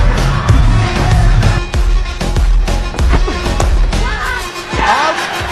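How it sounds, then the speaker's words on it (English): Crowd noise at a 2007 ICC T20 World Cup cricket match between Pakistan and Scotland, Pakistani supporters cheering in a steady loud roar with scattered bangs and whistles, commentary voices talking over it. "Some cheer for the Pakistani supporters."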